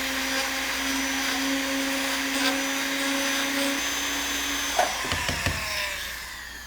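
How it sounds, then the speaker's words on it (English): A handheld router cuts into a piece of ebony for a guitar headstock inlay. A loud, steady high whine runs close and continuous, then falls in pitch near the end as the motor spins down, with a few knocks and no talking. "Just going to go into a place on a piece of ebony that we have from our shop and just start routing"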